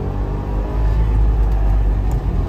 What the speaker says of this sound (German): Wir fahren heute mal nach Philadelphia mit dem Trabi.